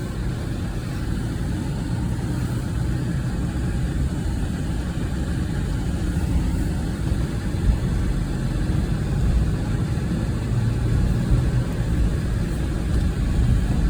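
A 2004 Porsche 986 Boxster with a 5-speed manual rolls slowly through an apartment parking lot, its engine a steady, low mid-range drone that holds even throughout with no voices.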